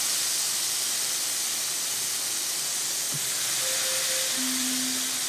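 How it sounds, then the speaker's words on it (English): Steak fat edge held against a hot pan, searing with a steady broadband hiss that runs throughout at moderate level, with a brief low knock midway and faint tonal beeps near the end. "I'm going to kind of cook the side of the steak because it is a lot of fat on the edges of the steak."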